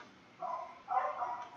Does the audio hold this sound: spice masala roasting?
no